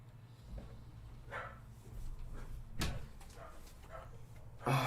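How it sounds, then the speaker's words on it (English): Several dogs bark in sharp, irregular bursts at close range, with yips and a few louder barks standing out against a steady low hum in the room. "The dogs are so loud and annoying."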